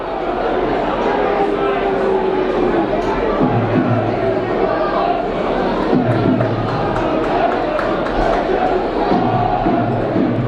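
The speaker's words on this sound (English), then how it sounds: "Finally something for Halifax to cheer about after a dismal first half showing." A rugby league crowd at a Halifax v Dewsbury match cheers and shouts for Halifax, a loud, continuous roar of many voices with a few rising chants standing out.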